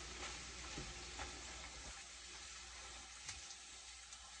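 Sliced onions for a ragu bolognese cooking in a pan while being stirred: a faint, steady sizzle with occasional soft scraping of the utensil.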